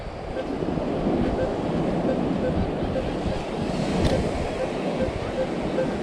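Steady wind buffets the microphone on a beach while surf rolls and washes in continuously, a broad roaring hiss that stays constant, with no speech.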